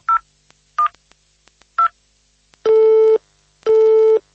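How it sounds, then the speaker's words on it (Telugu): A phone is dialed with three short keypad tones, followed by two long, loud pulses of a busy signal, clear and close with no talk. "అరే, ఎంగేజ్ వస్తోంది."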